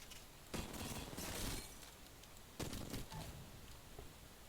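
Gunshots in the video game Apex Legends, two short bursts of fire separated by a pause, quiet and somewhat distant, with no one talking.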